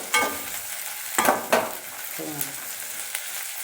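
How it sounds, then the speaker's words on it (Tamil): Small shallots sauté in a pan for a village-style tomato thokku. A steady close sizzle runs throughout, with a few sharp stirring scrapes near the start and no voices. "நல்லா பாருங்கள், நல்லா வதங்கி வருது."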